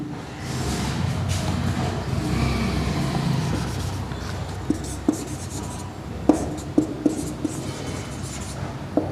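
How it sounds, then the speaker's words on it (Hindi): Pen or marker writing on a board during a class 6 maths lesson, a steady scratchy rubbing with a few sharper taps near the end, close and fairly loud over room noise. "अब यहां पे लिख देते हैं"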